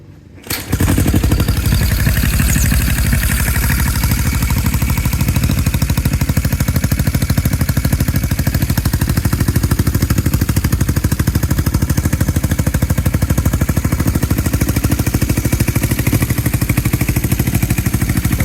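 A 1980 Yamaha XS400 motorcycle engine catches after a brief start and settles into a loud, steady, rapid-firing run close to the microphone for the rest of the stretch, with no talk over it.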